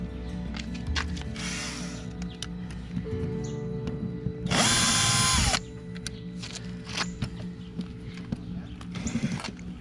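Power drill on a shuttle bus build, whirring loudly in one sustained burst of about a second amid workshop clatter, knocks and scattered tool noises, with no talking.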